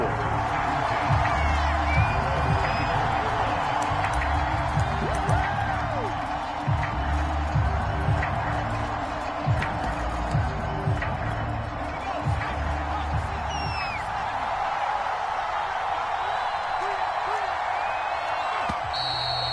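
Stadium crowd at a football game, a steady broad roar of many voices carrying under the broadcast, with scattered claps and whoops rising now and then across the stretch.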